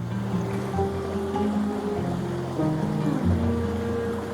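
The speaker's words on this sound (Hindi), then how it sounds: "बेसिकली ये है सोनमर्ग की सिंध रिवर।" The Sindh River at Sonamarg, Kashmir rushes in a steady, loud, continuous roar of flowing water, with a low sustained tonal hum layered underneath throughout and no voices.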